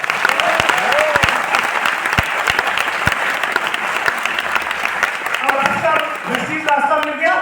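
Dense audience applause at a success celebration event in Delhi, a steady wash of many hands clapping close and loud, with cheering voices rising over it near the end.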